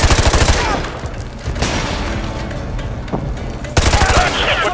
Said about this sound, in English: Roach, we're taking heavy fire from the militia here, but I'm still tracking Rojas.